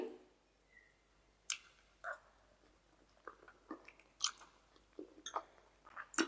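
Someone eating chickpea (chole) masala curry chews close up and quietly, with soft squishy bites and small clicks at an irregular pace.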